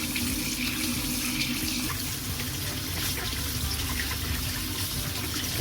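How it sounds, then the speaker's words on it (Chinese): Turnip (kohlrabi-style pickled mustard root) and green and red peppers rinsed under a running kitchen tap, a steady close splashing stream of water into a sink throughout, no talking. "大头菜、青红椒拿到清水下面冲洗干净。"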